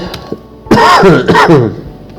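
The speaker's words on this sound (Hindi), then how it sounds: "मुझे थोड़ी सी खांसी हो रही है" A person clears their throat and coughs a few times in quick succession, close and fairly loud, with quiet pauses around it.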